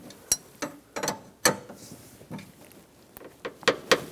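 AC pipe fittings are tightened down on a 1999-2006 Chevrolet Silverado 1500, a series of close, irregular metallic ratcheting clicks and clacks from hand tools, with no talk.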